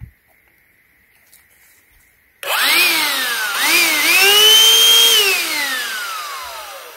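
A Black & Decker Pivot 20V Max lithium handheld vacuum motor, opened for teardown, switches on abruptly after a quiet stretch, then whines loudly and close, its pitch wavering up and down as it runs.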